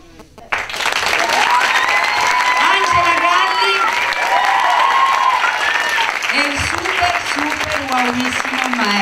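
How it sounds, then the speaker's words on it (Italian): An audience at a Godspell performance breaks into loud, sustained applause that swells suddenly and keeps going, with voices and cheers mixed into the dense clapping. "voglio un applauso che fa bruciare le mani"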